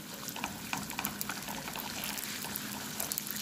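An egg and cheese mixture pours into a hot pan, making a soft, continuous bubbling and frying hiss with small crackles, close and moderately quiet.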